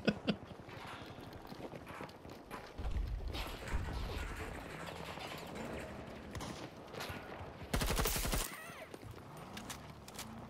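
Weapon fire in Battlefield 2042 on the Reclaimed map, with several bursts of gunfire and impacts amid loud game noise, one heavy blast near the end, and no talk.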